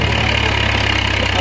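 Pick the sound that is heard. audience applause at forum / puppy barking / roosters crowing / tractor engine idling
tractor engine idling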